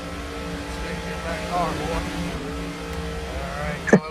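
Race car engines idle and rumble in a NASCAR racing video game set at Texas Motor Speedway, a steady low drone throughout with a sharp burst near the end, while a voice talks over it.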